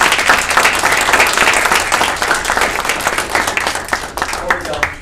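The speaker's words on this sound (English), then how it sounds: "please join me one more time in offering our graduates some applause" A crowd at an accounting master's hooding ceremony gives graduates loud, sustained applause, many hands clapping continuously before it thins toward the end.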